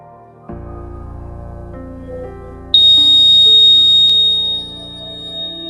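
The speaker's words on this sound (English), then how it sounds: "the buzzer also beeps" A motion sensor's electronic buzzer sounds a steady tone, then a higher shrill beep joins for a couple of seconds before fading, with no talking.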